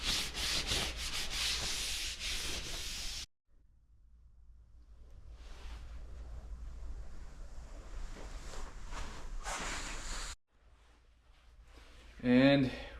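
Brushing a freshly waxed snowboard base to lift the last wax particles, a steady scratchy rubbing in long close strokes that pause briefly between passes.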